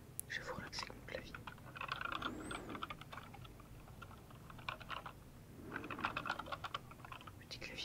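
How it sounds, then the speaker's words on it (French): Bursts of close typing on an MSI computer keyboard, quick clicky keystrokes in two clusters separated by a quieter gap, with faint whispering alongside. "Je vais vous relaxer mon clavier."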